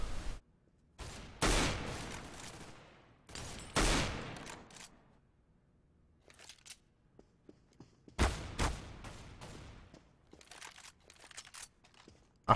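Pump shotgun blasts in the game Counter-Strike: Global Offensive come as sharp, loud, separate bursts, several spaced seconds apart with quieter clicks and rustles between them.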